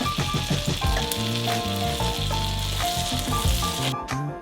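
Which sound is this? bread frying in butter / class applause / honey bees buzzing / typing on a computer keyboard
bread frying in butter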